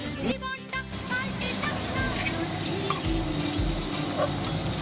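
Busy frying and sizzling of potatoes in a pan with stirring and scraping, while a murmur of voices and bustle from a birthday gathering at home carries on in the background.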